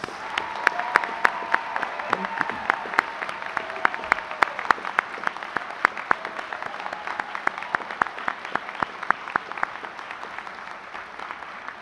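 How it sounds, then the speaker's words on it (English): Applause for graduates at a university commencement in Juneau: a sustained crowd clapping, with sharp individual claps standing out near the mic above the softer, more distant mass of hands, steady throughout. "let's all give a big round of applause again for our graduates"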